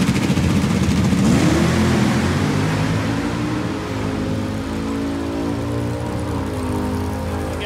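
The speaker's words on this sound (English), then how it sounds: "we're getting ready to run the Late Model Racecraft C7" A Late Model Racecraft Corvette C7 drag race car in the staging lanes, its engine loud and close, revving up and then settling into a steady, heavy rumbling idle with no talking.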